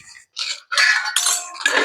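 A metal spoon clinks against a bowl as masala spice is added, giving several bright, short chiming taps in quick succession, close and clear with no talking.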